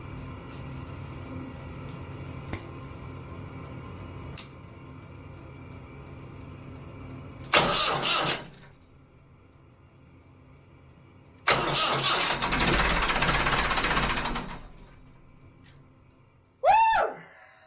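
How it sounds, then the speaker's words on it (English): A diesel engine in a vintage yacht starts after the starter is hit only a couple of times, with short cranking bursts that catch into a steady, loud running roar. A final brief mechanical whine follows. "I did not expect the engine to run, especially not after hitting the starter motor only a couple of times."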